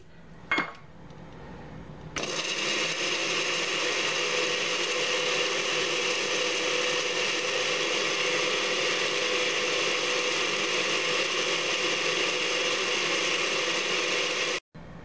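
A blender grinding marinade ingredients into a paste for mojarra fish starts after a short pause and runs as a loud, steady whirring roar for about twelve seconds before cutting off abruptly.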